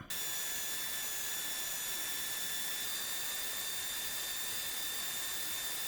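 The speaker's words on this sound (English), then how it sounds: "the belt sander was going a little slow" A belt sander rounds the edges of pallet wood with a faint, steady whirring hiss and thin high whine that holds constant from start to finish, with no voices.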